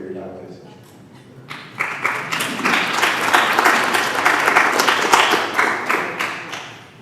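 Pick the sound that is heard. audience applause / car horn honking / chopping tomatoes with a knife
audience applause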